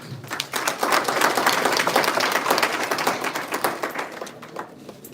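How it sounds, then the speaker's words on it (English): An audience applauds steadily at a live event, dense clapping building quickly, holding for several seconds, then thinning out near the end. "Let's clap for Mr. Kayaloje."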